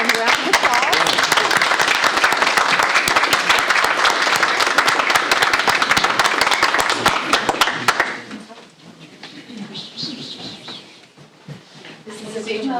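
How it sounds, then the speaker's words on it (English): A school board meeting audience gives a round of applause, with thick, sustained clapping for about eight seconds that stops abruptly and leaves quiet room noise and faint murmurs. "let's give them a round of applause."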